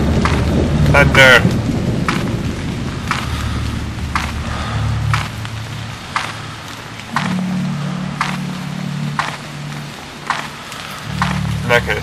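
Thunder rumbles through steady rain in the horror video game Haunt, low rolling booms swelling and fading across a constant hiss of rainfall, with a person talking over it at times.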